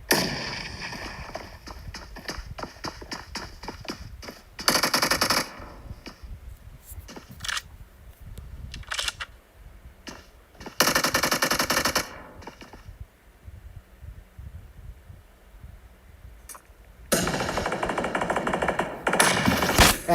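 Bursts of gunfire and explosions from a competitive online shooter, likely including a grenade blast, come in loud, rapid clusters separated by quieter gaps.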